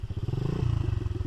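A dirt bike engine runs and revs close by in a forest, its exhaust pipe in poor condition, giving a loud, pulsing mid-range throb with rising revs throughout the short burst.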